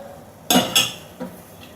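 A metal ladle clinks twice against a cooking pot as rice is added, then gives a softer third tap, close up and otherwise quiet.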